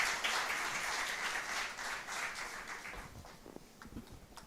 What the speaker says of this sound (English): Please join us in welcoming him with a huge round of applause.